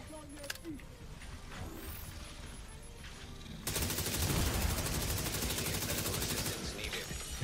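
Sniper rifle fire in a video game battle against a mobile tank, a sudden loud crack that sets off a dense, sustained roar of gunfire and noise lasting several seconds, with scattered sharp transients beforehand.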